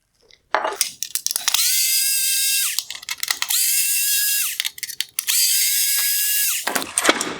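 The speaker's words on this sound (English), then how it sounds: "This LED unit was held on with 6 T15 Torx screws." A powered screwdriver backs T15 Torx screws out of a 2016-2020 Tesla Model S LED headlight unit, with three long, close, high whirring runs separated by short clicks and pauses.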